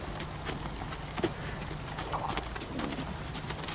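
Quiet, irregular hoofbeats of horses walking on the ground outdoors, with soft background noise and no talk.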